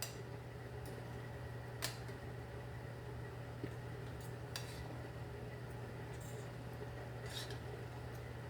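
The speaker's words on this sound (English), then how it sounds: "Give it a good little mix." A spoon stirs a pasta mixture in a pot or bowl, with a few soft, scattered clinks over a low, steady background hum. No one speaks.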